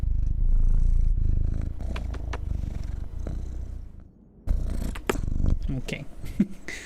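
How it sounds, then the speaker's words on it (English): A house cat curled on a lap purrs loudly and continuously at close range, with a brief dip in the sound partway through before the rumbling resumes. "Let's give me the loud purr noises."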